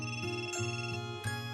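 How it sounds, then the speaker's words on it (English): An iPhone incoming-call ringtone plays its bright, tonal marimba-like melody, repeating short notes at a steady pace, clear and alone with no talk. "is a call on your iPhone."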